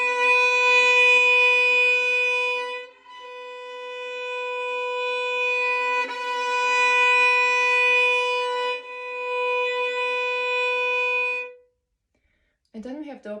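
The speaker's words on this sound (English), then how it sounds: "Another technique is to play down forte and up piano" Violin bowed in long sustained strokes, loud on the down-bow and softer on the up-bow, the strong tone swelling and easing across several bow changes before a brief voice enters at the end.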